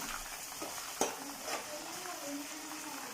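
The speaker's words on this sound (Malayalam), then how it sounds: "അടുത്ത പാനിൽ ഇതാ നമ്മൾ ചിക്കൻ രണ്ടാമത്തെ ബാച്ച് ഫ്രൈ ചെയ്തുകൊണ്ടിരിക്കുകയാണ്" A second batch of chicken fries in a pan for chicken biryani, giving a soft steady sizzle with one sharp utensil tap and a few light scrapes.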